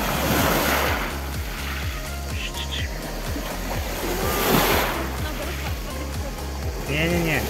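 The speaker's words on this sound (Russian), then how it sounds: "Он ждет, когда на него волна приедет." Sea waves break and wash over a pebbly shore at a Black Sea resort, a continuous rushing surf with gusty wind noise on the microphone and brief voices.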